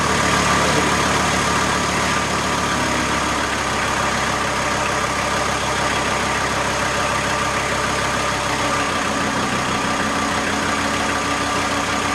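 A VW T4 with the AAB engine idles steadily under an electrical generator load with lights and a fan running, a continuous close mechanical hum whose tone dips slightly as the load comes on.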